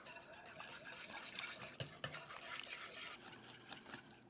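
Whisking eggs and stirring flour into chocolate cake batter in a bowl, a steady, close scraping and tapping of a whisk against the sides that continues for several seconds with no talking.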